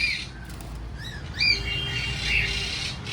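Cockatiels in an aviary give several scattered chirps and squawky whistles over a steady background rumble, the calls fairly close and moderately loud.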